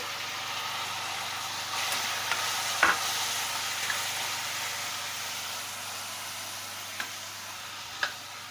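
Onions and tomato frying in a pan for sabudana khichdi: an even, continuous sizzle close by, with a few sharp spoon taps against the pan standing out.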